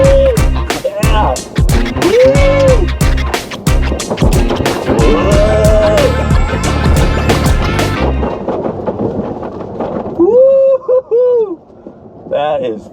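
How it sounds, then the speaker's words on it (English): A Rivian electric truck drives over sand dunes, kicking up sand, with loud rumbling and buffeting noise, wind and gritty hiss, while people talk and laugh over it. "We're kicking up some sand."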